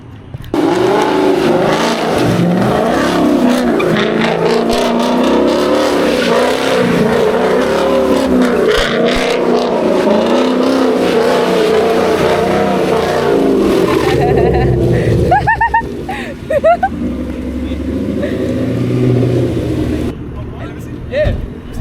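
Car engine revving hard through a spin: loud, sustained roar and whine throughout, with excited people talking over it and a brief pitch swing near the end.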